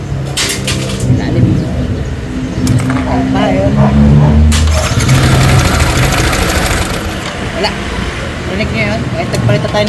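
A Yamaha Sniper 155 motorcycle engine idles and runs close by with an irregular knocking, rattling noise from a faulty tensioner at the top of the engine, while someone talks over it.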